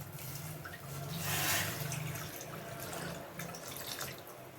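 Water poured into a pot of chicken bones runs steadily with a broad hiss that swells midway and then settles, continuous throughout with a low hum beneath.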